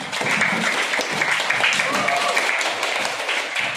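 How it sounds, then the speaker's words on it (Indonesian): Classroom applause for a student group, a steady round of clapping from pupils lasting a few seconds, fairly close and even throughout. "tepuk tangan untuk Dani Misil"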